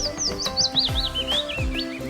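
Bright, rapid bird chirps warble repeatedly over a busy musical backing with kick-drum thumps, in a children's reading lesson.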